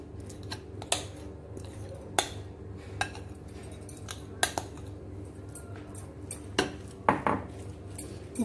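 A metal spoon scrapes and clinks against a deep metal pot while cream (malai) is transferred, giving sharp, irregular taps and scrapes close by over a steady low hum, with no voices.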